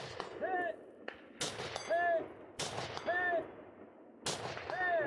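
Four sharp pistol gunshots ring out at an all-pistol stage of a shooting competition, evenly spaced about a second apart, each loud and close with a ringing metallic echo.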